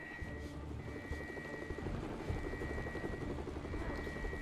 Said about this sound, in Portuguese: Ó, o prisioneiro tá controlando o helicóptero,